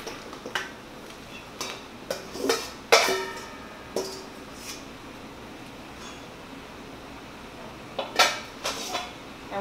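Okra going into a pot of boiling water while canning okra for frying: scattered clinks and clatters of pot and utensils, a few sharp knocks among a soft bubbling, watery background, close and moderately quiet.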